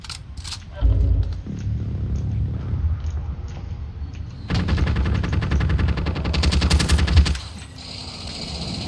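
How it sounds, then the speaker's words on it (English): Gunfire in a video game firefight: loud, rapid bursts of automatic shots and booming blasts ring out in repeated volleys for several seconds over a rumbling background. "There's another person shooting."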